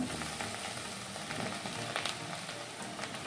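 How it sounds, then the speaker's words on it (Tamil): Bread frying in hot oil and ghee for bread upma: an even, crackling sizzle holds steady from start to finish, close and fairly quiet, with faint pops scattered through it and no talking. "இந்த ப்ரெட்டை போட்டு நம்ம ஃப்ரை பண்ணலாம்"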